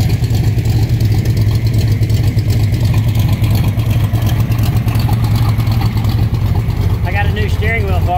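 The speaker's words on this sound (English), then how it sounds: "And I'm going to park the 57 Chevy behind it." A 1957 Chevy's engine runs steadily at close range with a low, continuous rumble while the car is moved into a parking spot, loud throughout with no pauses.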